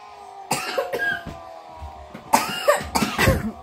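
A child coughs in a few short bursts, a single cough early on, then a cluster of harsh coughs close to the listener after a pause.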